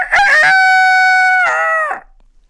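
A rooster crows a single long cock-a-doodle-doo, loud and close, opening with rising notes, holding a steady harmonic-rich call, then falling off at the end, with no voices around it.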